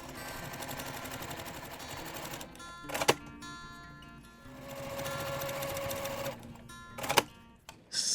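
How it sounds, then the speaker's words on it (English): A sewing machine stitching a quilted stars-and-stripes table runner runs in steady, fast mechanical bursts, pausing briefly between seams with sharp clicks as it stops and restarts, close and clear with no talking. "we're just going to sew along both sides of the line just like we did previously"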